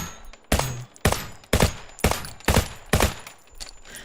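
Gunfire in Unturned II, six loud, close single shots spaced roughly half a second apart, each with a short echoing tail.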